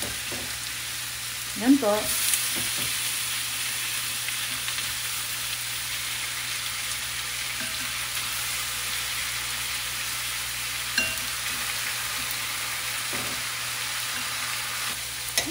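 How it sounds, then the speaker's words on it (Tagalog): Meat sautéing in a pan while being cooked for arroz valenciana, a steady loud sizzle with occasional stirring scrapes, and a brief spoken phrase near the start. "Gisahin po lang natin na mabuti."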